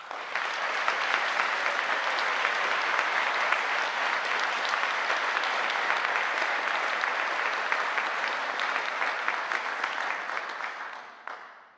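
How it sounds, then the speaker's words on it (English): Graduates at a Liverpool University School of the Arts graduation ceremony applaud themselves, a dense, sustained round of clapping from a large hall that holds steady before tapering off at the end. "I think you should give yourselves another round of applause."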